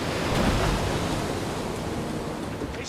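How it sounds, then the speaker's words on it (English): Waves wash and splash around a small paddled boat on an open-water crossing, giving a continuous broad roar of surf and water with some wind buffeting the microphone. "There is a technique for paddling into waves that stops them splashing into the boat, Saul!"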